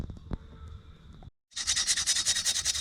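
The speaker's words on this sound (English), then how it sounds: "now I'm back sanding some more parts" A scraping, rhythmic sanding sound on metal parts starts after a short silence, close and fairly loud, with steady back-and-forth strokes; light clatter and handling noises come before it.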